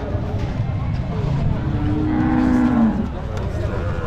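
Cattle at a crowded Qurbani livestock market, with a loud drawn-out moo rising near the middle over steady crowd noise and background chatter.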